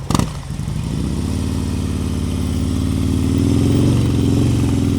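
A motorcycle during an advanced slow-speed riding practice session in North Carolina rumbles steadily nearby, its mid-pitched engine holding an even idle-like drone after a brief clatter at the start as it eases to a smooth stop.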